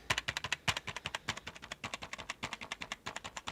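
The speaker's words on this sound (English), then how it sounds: "now let's try the Marvo keyboard, so QWERTY keys first" Rapid typing on the QWERTY keys of a Marvo Scorpion KW512 wireless gaming keyboard, a close, steady stream of crisp individual key clicks with no voices.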